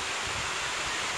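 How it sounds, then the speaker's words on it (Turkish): The waterfall at Güzeldere nature park in Düzce gives a steady, broad rushing roar of falling water, loud and unbroken throughout, with no voices. "şelalenin sesi de tabii."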